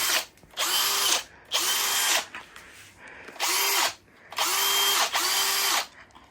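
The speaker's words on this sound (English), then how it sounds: "Let's get it in the drill." A power drill runs in four separate bursts of a few seconds each, close and loud with a steady whine, during the refurbishment of a white Kawasaki KMX 125 motorcycle part; no talking.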